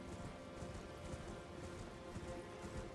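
Steady rain falls in Elden Ring with an even hiss and patter, faint and unbroken for a few seconds, no voices.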